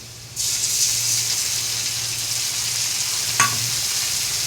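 Fried onions sizzle in a pan after ginger-garlic paste is added for a chicken dish, giving a loud, steady hiss that starts suddenly, with one brief clatter of stirring near the end.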